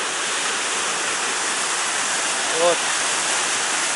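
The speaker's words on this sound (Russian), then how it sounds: "Смотрите, друзья, насколько бурно вот эта река спускается оттуда." A fast mountain river rushes down at the Akhki-T1ai tourist complex, a loud, dense, continuous roar of water, close and unbroken, while someone briefly speaks over it.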